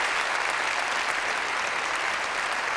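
Steady, dense applause from a crowd at a La Rioja folklore gala, continuous and fairly loud throughout with no voices over it.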